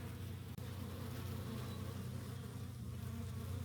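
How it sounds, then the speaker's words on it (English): Honeybees from a 3 lb package, bunched around their queen, hum in a steady, even drone with no pauses, fairly quiet and close by. "Bunch of bees in there."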